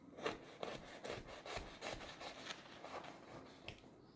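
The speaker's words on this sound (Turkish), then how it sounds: "Sizin için hamburgerimi kesiyorum." Knife cutting through a hot homemade hamburger with melted kaşar cheese, a series of soft rhythmic rasping strokes, close and fairly quiet, with no talk.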